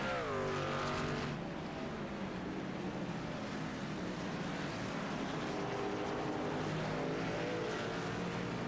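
Racing trucks in the Hammer Down truck series run down the downhill Watkins Glen pit lane at a limited speed, engines droning loudly and continuously, with a rising engine pitch early on and several overlapping motors.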